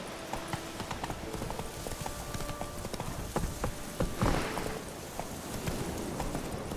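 The horse Roach's hooves clip-clop on the ground in The Witcher 3: Wild Hunt, a steady close walking rhythm of hoof strikes slowing down, with light tack and ambient game sounds.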